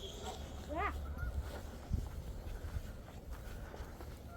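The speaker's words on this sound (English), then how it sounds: "The geese." Geese honk in a short rising series early on, fairly faint outdoors amid footsteps and low rustling, near an old iron furnace site.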